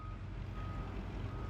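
A construction vehicle's reversing beeper sounds faintly and steadily over low rumbling engine noise at a distance.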